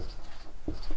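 Short scratchy strokes of marker or chalk writing on a board during a physics lesson, close and fairly loud with no talking.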